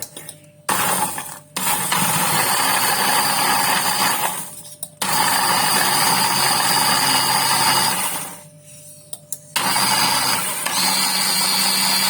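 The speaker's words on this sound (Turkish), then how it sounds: "Şimdi bisküvilerimizi güzelce rondodan çekelim." Food processor grinding biscuits into crumbs, loud whirring bursts with a rattling churn, run in several pulses of a few seconds each, separated by short silences.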